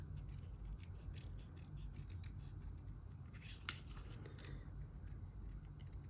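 Quiet, steady snipping and rubbing of scissors cutting a tiny piece out, close and soft, with a faint low background hum and no talk.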